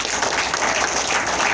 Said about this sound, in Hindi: एक बार ताली हो जाए।